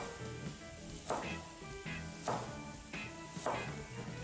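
Chopped onion and green pepper sizzle quietly and steadily in a pan, with soft periodic scraping or stirring knocks about every half second, heard close and without talking.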